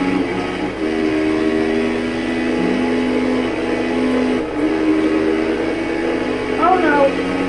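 A train in the MX vs ATV video game rumbles past in a long, steady, loud drone, with sustained horn-like tones running throughout and a brief rising whistle near the end.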